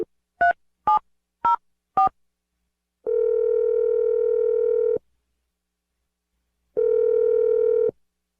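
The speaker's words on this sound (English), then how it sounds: "I'm going to dial the phone number" Four short telephone keypad tones in quick succession, followed by two long steady ringback tones separated by silence, clear and close.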